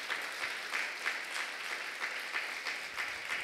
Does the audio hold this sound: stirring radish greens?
no